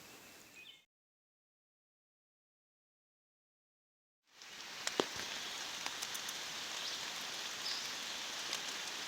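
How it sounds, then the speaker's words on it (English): Light rain pattering at a forest campsite in Wayne National Forest, a steady soft hiss with scattered drops tapping nearby after a stretch of silence. "It's raining a little bit."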